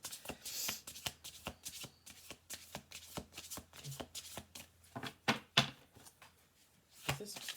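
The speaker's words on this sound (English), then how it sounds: "I'm going to do 2 more shuffle throughs." Cards are shuffled repeatedly, with quick riffling bursts and soft slaps in an uneven rhythm, close and fairly quiet.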